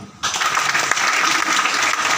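An audience at an award and recognition seminar in Bathinda bursts into loud, sustained applause after a brief quiet moment, many hands clapping densely and close.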